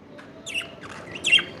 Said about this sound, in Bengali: ওই যে ঘুঘু দেখেন, চড়ুই পাখি কতগুলো আসছে